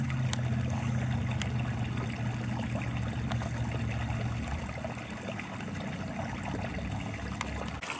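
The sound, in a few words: small waterfall in a stream behind Pineview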